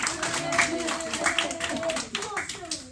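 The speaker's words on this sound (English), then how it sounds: "a very happy round of applause" Audience applause at a school event, brisk clapping from a crowd with voices mixed in, fairly close and continuous throughout.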